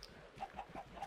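Chickens on a video game animal farm give soft, faint clucks in a quick run of four or five calls, alone with no talk.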